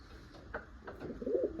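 Pigeon cooing, a few soft low coos rising near the end, fairly close against a faint background murmur.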